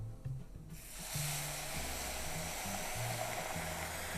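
White wine poured into a pan of parmesan risotto rice: a quiet low rumble, then a sudden loud, steady broadband hiss and sizzle as the liquid hits the hot rice and keeps bubbling.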